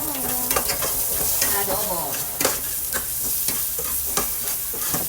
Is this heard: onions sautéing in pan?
yes